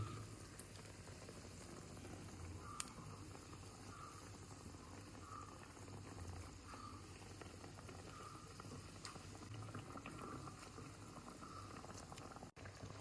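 A pot of curry simmers on the stove with a steady soft bubbling and gentle hiss, quiet and continuous, with occasional light clinks and no voices.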